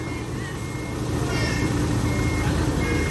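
An SDLG E6205F excavator sounds a regular series of high reversing beeps over a loud, low engine rumble, close by and continuous throughout.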